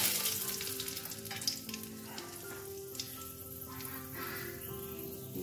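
A cinnamon stick, three cracked cardamom pods, three or four cloves and three bay leaves sizzle in hot oil for a Bengali chicken and potato curry, with a loud, continuous frying hiss and occasional small pops.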